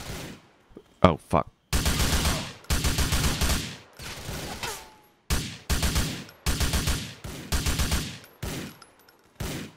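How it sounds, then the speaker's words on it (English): Video game gunfire, bursts of rapid automatic shots in long repeated volleys separated by short gaps, loud and close, with a man briefly swearing between them. "Who's shooting?"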